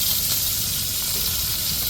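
Curry leaves sizzling in hot oil in a pan, a continuous bright crackling hiss, loud and even across two seconds with no voices.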